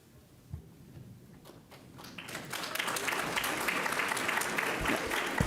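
Applause from a crowd at a city council meeting builds steadily into a sustained, dense clatter of many hands clapping, loud and continuous by the end.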